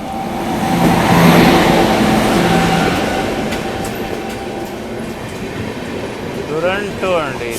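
A Duronto express train passes close by, a loud rushing rumble with horn-like tones early on that swells and then fades into clattering, with faint talk near the end.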